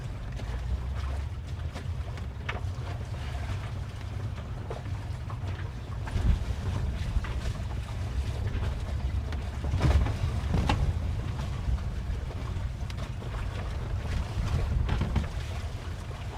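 A sailboat moves through a tidal current on the Salish Sea, a steady low rumble of water and hull with gusting wind noise and occasional knocks, constant and close, with no voices.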